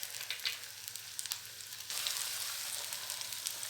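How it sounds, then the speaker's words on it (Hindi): Potato bread patties dipped in slurry frying in hot oil, a steady close sizzle with crackling pops that grows louder and fuller partway through and holds on with no talking. "इसको हम इसमें डिप करेंगे अच्छी तरीके से और इसको आप फ्राइंग के लिए डाल देंगे"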